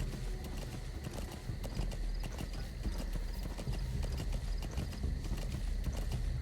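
Horse hooves clip-clop steadily on the ground in Metal Gear Solid V, a dense, close, continuous galloping rhythm with occasional whinny-like tones over a low rumbling game soundscape.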